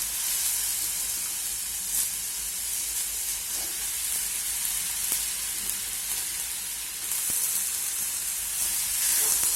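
Coriander and eggplant pieces sauté in a hot pan, giving a continuous bright sizzling hiss with a few faint clicks of stirring, close and steady, no voices.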